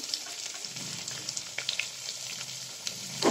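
Onions and curry leaves with spluttered mustard seeds frying in oil for pepper rice upma, heard as a moderate, fairly quiet sizzle with intermittent stirring scrapes and small pops.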